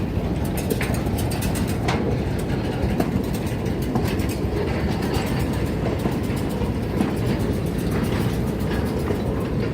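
Semboro sugar factory lorry train rolling over a diamond crossing, a loud continuous rumble broken by repeated sharp metallic clacks of wheels striking the rail junctions, close by and without talk.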